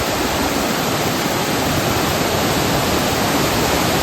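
A monsoon-flooded river in Konkan rushing after heavy rain, heard as a loud, steady broadband roar of water that stays unbroken for the whole span with no voices.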